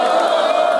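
VIP crowd at a live orchestra party roaring and cheering together, a loud, sustained mass of voices with no pauses in under a second.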